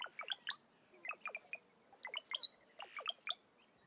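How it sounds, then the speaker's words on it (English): Brown-headed cowbird calls: several bursts of liquid, bubbling gurgles, each ending in a thin high whistle, repeated four times in quick succession, clear and close against a silent background. "The brown-headed cowbird to me sounds like bubbling"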